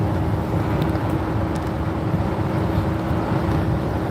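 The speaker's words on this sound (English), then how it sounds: "Wind is blowing decent amount out here" An RV drives along the I-10 interstate in West Texas, with steady wind and road noise roaring constantly at a loud, even level. A low drone carries under the noise, and no talking is heard.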